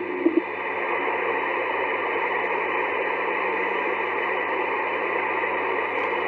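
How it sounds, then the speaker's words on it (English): Amateur radio receiver at a portable park station, giving a steady wash of hiss and static with a faint low hum, continuous and unchanging for the whole stretch, with no talking. "I'm sure you can hear the radio in the background"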